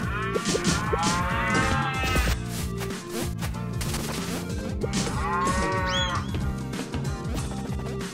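Repeated drawn-out cow moos ring out from the ceiling cow in the video game Pizza Tower, layered over busy, loud game music that plays continuously throughout, with no speech.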